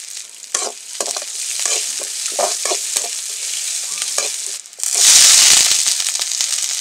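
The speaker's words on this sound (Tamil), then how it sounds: "இப்போ கருவேப்பிலை சேர்த்துக்கலாங்க." Curry leaves dropped into hot oil with onions in a pan for masala curry, stirring scrapes first, then a sudden loud, crackling sizzle close by that keeps popping and hissing.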